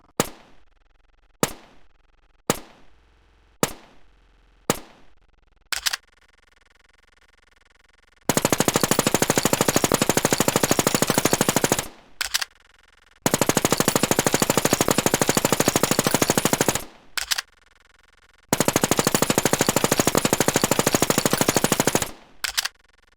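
Honey Badger gun fire in the Free Fire video game, beginning with six sharp, evenly spaced single shots, then three long, loud sustained bursts of rapid automatic fire separated by short pauses, with no voices.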